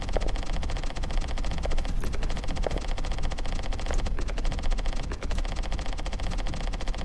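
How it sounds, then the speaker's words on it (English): A LiDAR scanning gun in the indie horror game Blinded by Fear gives off a steady, dense stream of rapid ticking clicks. It stays loud and unbroken, with a few sharper accents throughout. "I'm working against the LiDAR gun here. The little sound it makes is very satisfying."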